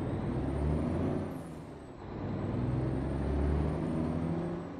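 A heavy truck rumbles close by with a hissing air brake as it slows, the low engine drone steady and loud throughout.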